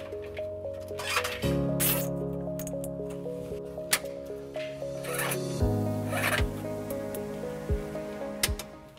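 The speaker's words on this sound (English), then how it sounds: "zip tying it all the way." Zip ties are ratcheted tight while trailer wiring is fastened along the brake lines of a 2018 Nissan Altima, with several short zipping rasps over a steady mechanical hum.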